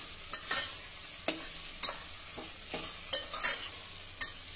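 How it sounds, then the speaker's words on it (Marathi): Mixed vegetables sauté in a pan for masale bhaat, soft sizzling under a string of sharp spatula scrapes and taps at uneven intervals, close and fairly quiet with no voices. "एक मिनिटासाठी आता ह्या भाज्या आपण परतून घेऊ।"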